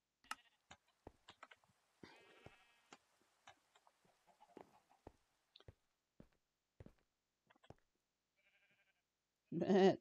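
Sheep bleating in a video game, a short burst near the end following a long stretch of sparse clucks, taps and faint background game noises.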